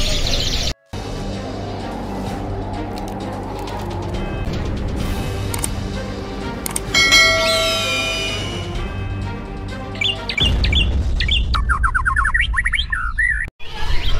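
Merlok canaries at a bird market chirp and trill loudly and continuously, many birds overlapping in busy, piercing song over a humming market background.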